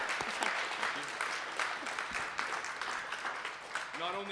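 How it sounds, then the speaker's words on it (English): Audience applause at a Startup Grind Ottawa gathering at Bridgehead: dense, steady clapping from a room full of people, loud and continuous throughout, with a voice starting to speak over it near the end. "Please give a huge round of applause to Tracy."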